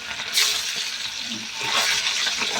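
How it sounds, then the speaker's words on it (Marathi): Paneer pieces crackle and fry in hot oil, a steady broadband hiss with brief louder bursts as more cubes go in, close and continuous with no talking. "तेलामध्ये आपण पनीर टाकून घेऊ. छान असं पनीर आपण फ्राय करून घेऊ."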